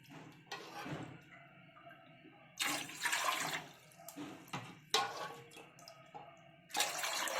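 Water splashes and pours in several short bursts, cup by cup, into a pot with pauses between, close by and moderately loud.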